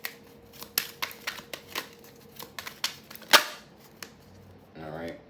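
Tarot cards are shuffled by hand in a rapid series of crisp, snapping riffles and taps close to the mic. A brief soft voice follows near the end.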